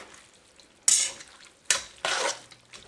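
Pancit canton noodles with chicken stock being stirred in a pan, with a few short, wet scraping bursts of utensil against noodles and pan, close and fairly quiet, separated by near silence.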